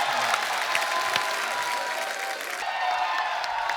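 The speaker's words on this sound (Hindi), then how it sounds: "टाइगर के लिए जोरदार तालियां." Studio audience applause for Tiger Shroff's entrance on The Kapil Sharma Show, a steady crowd clapping that holds at an even level throughout.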